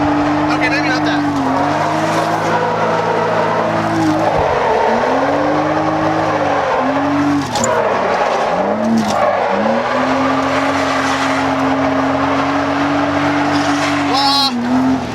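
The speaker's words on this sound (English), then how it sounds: "This car feels so good sideways." A BMW E36 M3 drifts sideways with its engine droning loudly and its tires squealing in long, sustained bursts that rise and dip as the car slides, close and continuous throughout.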